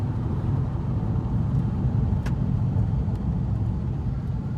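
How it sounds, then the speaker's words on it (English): Steady low road rumble from inside a moving car, with faint intermittent rattles and ticks over the engine drone. "that rattling is bugging me."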